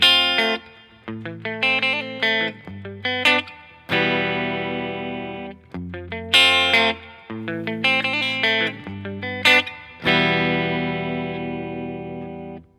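Strummed electric guitar chords with effects ring out one after another, each struck once and left to sustain and fade, with no voices.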